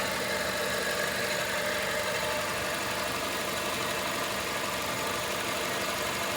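A car engine idles roughly after a dose of STP octane booster, a steady close rumble with a faint shaky, uneven vibration running through it and no talking.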